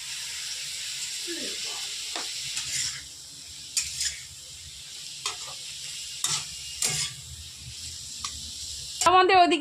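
Chopped leafy greens fry in a pan with a soft, continuous sizzle broken by several sharp scraping stirs, close by, while a person talks briefly in the background.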